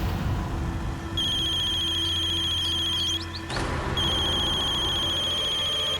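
A phone rings indoors, a loud sustained electronic ringtone that starts, breaks off briefly, then resumes over a steady background hum.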